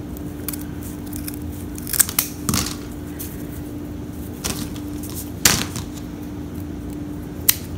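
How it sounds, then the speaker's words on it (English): Scissors snip through leftover material while a Dollar Tree fall scarecrow wreath is being made, giving a few separate, crisp close cuts spread unevenly over quiet background. "I'm going to cut the remainder off."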